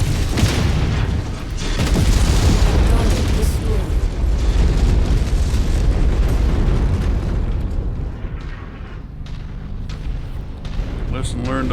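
A destroyed target blows up in a video game, a loud, deep rumbling blast with crackling debris that roars for several seconds before slowly fading away.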